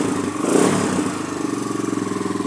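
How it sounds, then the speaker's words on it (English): A motorcycle engine idles on its own after a clogged carburetor was cleaned, a steady close chugging pulse with a brief rise in revs near the start, then an even running rhythm. "now because we fixed the idle, you don't have to run the throttle to keep it going"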